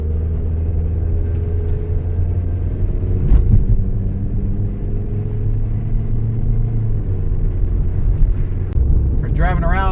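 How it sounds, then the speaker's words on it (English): A 2002 Ford Escort ZX2 accelerates, heard from inside with the window down as a loud, steady low engine rumble that builds through the run, with a brief knock near the middle. "Roll the window down here and we'll do a little acceleration."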